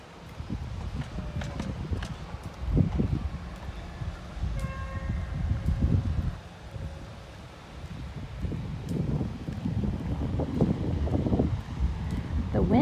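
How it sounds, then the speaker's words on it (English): Wind gusts in an outdoor Victorian garden, buffeting the microphone with a low, uneven rumble that rises and falls throughout. "wind is starting to pick up"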